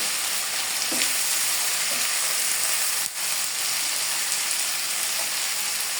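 Ginger-garlic paste, chopped onion and green chillies stirred in a frying pan for matar ghugni, a constant close sizzle with a few scraping stirs and a sharp clack near the middle, with no talking.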